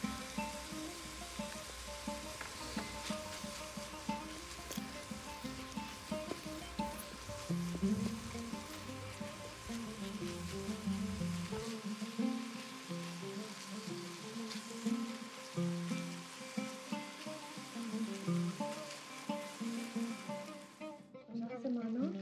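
Minced meat frying in a pan with seven-spice, a pinch of cinnamon and salt, a steady close sizzle under busy stirring clatter for most of the stretch, cutting out near the end.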